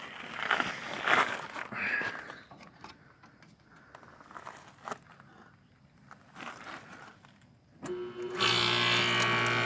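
A 1981 Emerson Quiet Kool Dynamic Series 18,000 BTU Watt Watcher air conditioner, dirty and rusted, starts near the end with a loud steady hum and broadband blowing roar after a stretch of quieter rustling and handling noise.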